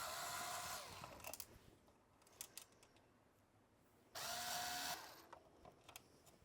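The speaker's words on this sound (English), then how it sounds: "Now we're going to work on removing the screws that's holding the APIM to the actual head unit" A powered screwdriver removes screws holding the APIM module to a car head unit from an S550 Mustang. Two short whirring bursts, faint and close, are separated by small clicks of handling.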